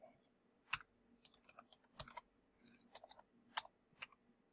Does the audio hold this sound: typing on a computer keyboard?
yes